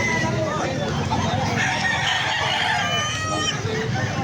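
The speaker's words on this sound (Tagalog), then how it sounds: "Meron pa doon mga kabayan, mga manok oh" Gamecocks crowing and clucking at a busy fighting-rooster market in Angeles City, several birds calling over one another in a continuous close chorus, with crowd murmur and voices underneath.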